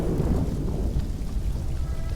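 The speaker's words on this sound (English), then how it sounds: "The rain resumes when you enter here." Steady heavy rain mixed with low thunder rumbling near a cemetery, a dense continuous wash of falling water that stays loud and even throughout, with no voices.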